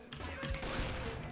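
Rapid bursts of CS:GO gunfire, several sharp shots in quick succession, loud and close.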